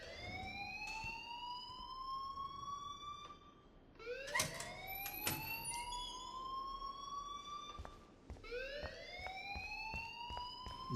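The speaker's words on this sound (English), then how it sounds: "please turn off that alarm since that's your job" An alarm rings in the video game Life Is Strange, repeating rising electronic wails in three cycles with sharp clanging bursts between, fairly loud and alone without speech.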